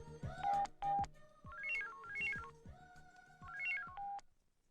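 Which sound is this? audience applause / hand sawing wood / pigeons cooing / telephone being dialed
telephone being dialed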